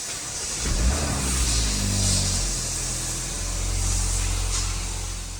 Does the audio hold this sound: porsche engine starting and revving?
yes